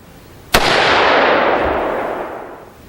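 A single sharp AR-15 rifle shot fitted with a B7 Weapon Systems muzzle brake cracks loudly at close range outdoors, then a long rolling echo decays for two seconds.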